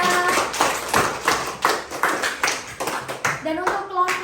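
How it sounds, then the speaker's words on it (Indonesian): A group of children claps for a winning team in a classroom, in rhythmic bursts of close, uneven hand claps, with voices chiming in near the end. "Beri tepuk tangan untuk kelompok 3."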